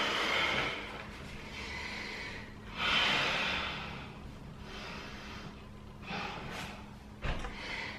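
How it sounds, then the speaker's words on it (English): Slow, audible breaths come in and out while someone holds a yoga balance pose, with several soft breathy swells recurring every couple of seconds, close and fairly quiet with no talking. "Make sure you're breathing."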